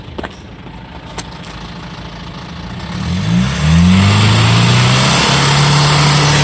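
A car's engine idles steadily after an engine-treatment fitting, first low and even, then rising in a rev as the tone climbs and settles into a louder, fuller running drone with no talk.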